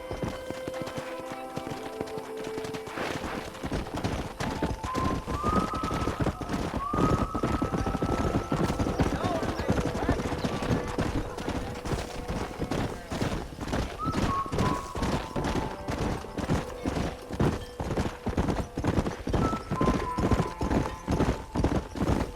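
Rapid, rhythmic horse hoofbeats gallop loudly and continuously in Red Dead Redemption after a brief quiet start, with game-style musical tones and a whinny-like sound layered over them.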